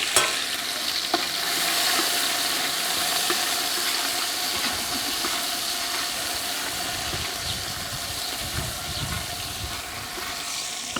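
Green chili and crushed garlic fry and are stirred in a pan during a Warli Adivasi feast, giving a continuous soft sizzle with scraping stirs that grows busier toward the end.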